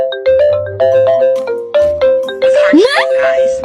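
A doorbell plays a bright electronic chime melody of repeated ringing tones, loud and close, with a rising tone and busier sound near the end.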